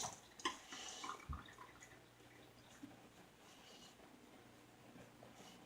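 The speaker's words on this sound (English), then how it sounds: "Let's add a little water." Water trickles and drips faintly during a wet shave, with a few brief splashes and taps near the start and then a quiet, steady background.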